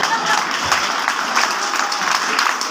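A crowd claps at a Hindi religious discourse, dense continuous applause at a fairly loud level filling the whole stretch.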